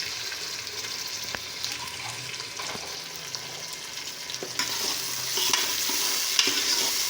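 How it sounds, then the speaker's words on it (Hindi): Whole spices, tomatoes and green chilies fry in a pot for cauliflower and meat curry, giving a steady bright sizzle with occasional stirring knocks that grows louder toward the end. "अब इसमें खड़े मसाले डालेंगे।"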